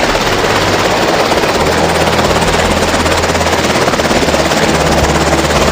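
A loud, continuous helicopter roar with rapid rotor thumping, very close and unbroken throughout.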